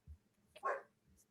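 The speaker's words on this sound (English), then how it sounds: "I'm sorry if you can hear my dogs barking in the back." Dogs bark somewhere in the background, a couple of faint, short barks and yips at low volume in an otherwise quiet room.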